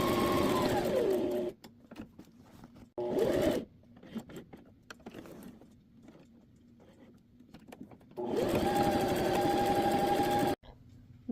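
A sewing machine stitches two fabric base pieces for a travel organizer, running in long steady bursts separated by pauses and short stops, close and fairly loud with no talking.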